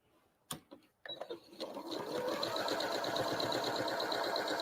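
After a few clicks and knocks, a sewing machine starts up and runs steadily and close, sewing pieces of a Friendship Star quilt block.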